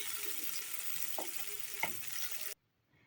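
Garlic cloves sizzling in oil in a pan for a spinach gratin sauce, a steady close frying hiss with a couple of faint utensil taps, cutting off abruptly near the end.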